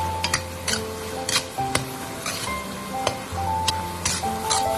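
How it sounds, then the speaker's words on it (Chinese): A metal spatula scrapes and clinks in a wok as sweet peas, corn kernels and diced carrot are stir-fried, giving irregular close clattering over a faint sizzle. "再快速的翻炒均匀，大概翻炒10几秒左右就差不多了"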